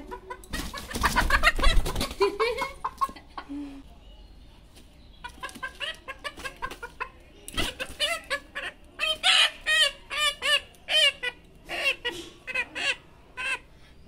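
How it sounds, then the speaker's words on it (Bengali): A desi chicken, caught by hand for cooking, squawks loudly and briefly, then falls into a run of short, evenly spaced clucks close by. "আজকে নিয়ে এসেছি দেশি মুরগি।"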